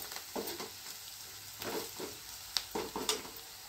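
Spices tempering in hot oil in a pan sizzle softly, with faint stirring scrapes and a few brighter crackles near the end.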